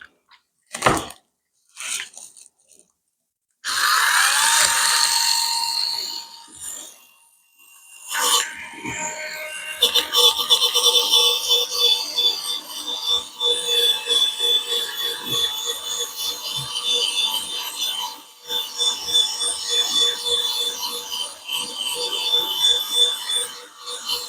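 Let's Resin 4-in-1 sanding and polishing machine working a piece against grit, a steady whirring rasp that starts after a few sharp knocks and runs on unbroken, loud and close.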